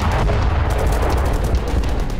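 Heavy, dense booming blasts from mortar fire in the Russia-Ukraine war, loud and continuous with rumbling low end and no voices.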